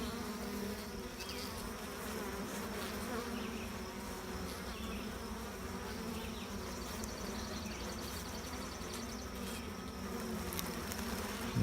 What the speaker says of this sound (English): Bees are in a really good mood.